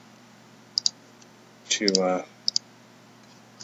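Computer keyboard clicks: a few sharp, separate key presses in quick pairs, close and crisp, with a brief spoken word between them.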